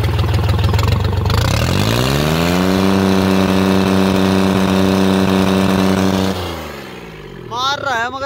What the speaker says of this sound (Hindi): एक बार रेस देके देखता हूँ मारेगा नहीं।